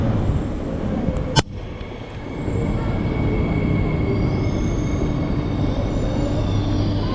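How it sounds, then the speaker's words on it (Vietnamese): A train rumbles steadily into a station in France on the way to Monaco, with a loud clank early on and a continuous rolling roar with faint wheel squeal; people talk nearby. "Xe lửa tới rồi à"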